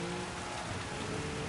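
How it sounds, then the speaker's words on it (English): Steady rain hiss in a racing video game at night, a continuous wash of drops on surfaces with a faint low hum beneath, heard alone without talk. "That's definitely when this game looks at its best though. It's rain and in the dark."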